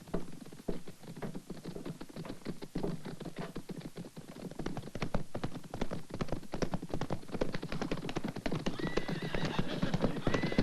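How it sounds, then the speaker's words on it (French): Horses' hooves clip-clop steadily as they approach on a Western-era scene, with a horse neighing partway through; the rhythmic hoofbeats stay loud and busy throughout, with no talk. "Je crois que j'entends les chevaux."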